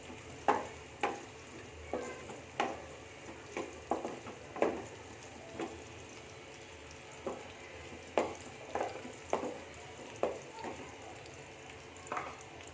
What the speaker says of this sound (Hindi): इसको थोड़ा सा ब्राउन होने देंगे अपने लहसुन को